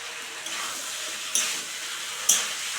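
Mixed vegetable curry sizzles in a pan after garam masala is added, a steady frying hiss broken by two sharp metallic clinks of a spoon stirring against the pan.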